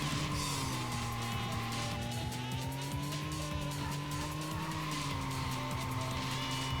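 A car in the video game Racing Lagoon skids around a corner, its tires squealing continuously over a steady, droning engine note that wavers in pitch, loud and close throughout with no talking.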